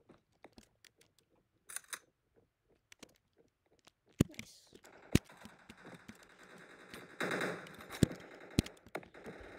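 Gunfire from the Shark gun in the Battle Forces video game comes as scattered sharp shots and short bursts, growing busier and louder in the second half, with almost no talk.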